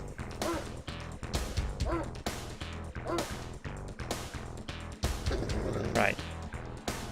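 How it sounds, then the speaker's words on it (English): Attack dogs in the Command & Conquer Remastered strategy game bark and yip repeatedly in quick bursts amid battle effects, with game voice lines and player talk mixed in. "Oh, dogs."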